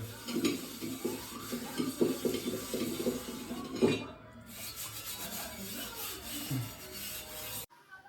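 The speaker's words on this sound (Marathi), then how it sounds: "आता भांडी घासू" Dishes being scrubbed, with repeated rubbing and scraping strokes and light clinks of pots and utensils, fairly close, ending with a short pause.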